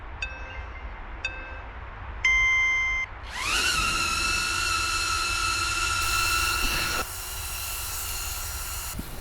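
A few short electronic beeps sound before a small camera drone's propellers spin up into a steady, high, whining buzz that holds close by, with a slight change in pitch partway through.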